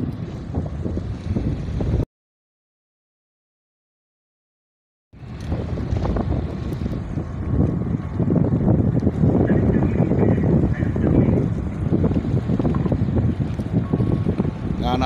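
A pilot boat guides a cargo ship through Tanjung Priok harbor, heard as a steady low engine rumble mixed with wind buffeting the microphone and water wash, cut by a brief stretch of total silence.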